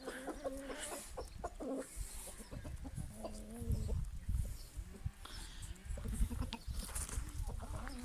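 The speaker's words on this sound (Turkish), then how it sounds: "Burada bizim kendimize göre şöyle atak tavuklar var arkadaşlar." Several chickens cluck and squawk close by, with repeated short calls over a busy farmyard background.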